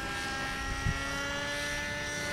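Raptor 50 radio-controlled helicopter in flight, a steady loud buzzing engine drone with rotor chop, close and constant for the whole stretch without talk.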